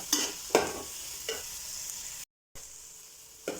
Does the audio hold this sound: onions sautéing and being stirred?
yes